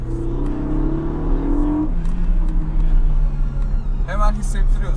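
Car engine and exhaust in sport mode, a loud revving engine tone that climbs and then settles into a steady drone, with someone talking over it.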